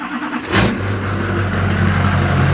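A Duramax diesel engine in a Squarebody truck idles steadily with a low, even hum after a brief bump near the start, close and constant.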